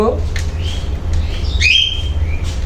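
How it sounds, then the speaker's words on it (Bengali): Shrill cockatiel screeches and squawks ring out in short bursts over a constant low hum, close and fairly loud. "আমার কুকাটেলগুলো কিন্তু কুকাটেল পাখিগুলো কিন্তু চিৎকার করতেছে"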